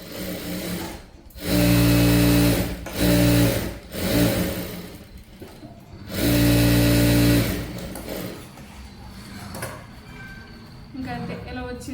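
A sewing machine stitches fabric around the edge of a sari umbrella frock, running in loud bursts of steady whirring that start and stop, with quieter handling and speech in the pauses.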